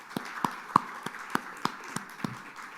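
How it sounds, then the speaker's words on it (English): Sparse, slow individual claps from a conference audience at an investors' panel event, a handful of distinct hand-claps spaced irregularly, fairly faint in a quiet room. "Keep that applause going"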